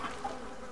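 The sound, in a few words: buzzing bees in a video game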